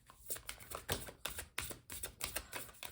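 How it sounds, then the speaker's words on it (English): Tarot cards being shuffled by hand in quick bursts, a crisp riffling and slapping of card stock repeated several times over a few seconds, fairly close, with no talk. "let me go ahead and we'll do like another little shuffle here."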